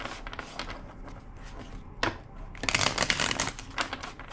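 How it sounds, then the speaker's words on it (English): A deck of tarot cards is riffled and shuffled in quick, crisp bursts close up, with a sharper flurry around two seconds and a longer, louder run of shuffling near the end, and no talking. "Two more shuffles."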